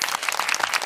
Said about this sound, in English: Insert clap.